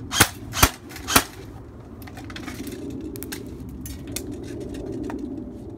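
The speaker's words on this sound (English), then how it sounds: "Let's try to shoot this camera right here." An airsoft gun fires BBs at a camera, giving three sharp, close cracks in quick succession, then a low background hum with faint small ticks and rattles.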